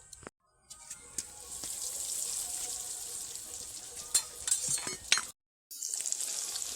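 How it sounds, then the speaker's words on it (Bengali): Hot oil sizzles steadily as eggplant fries in a pan, a bright crackling hiss with a few sharper pops and two brief silent gaps. "এইবার এটাকে তেলের কড়াইতে দিয়ে দেবো"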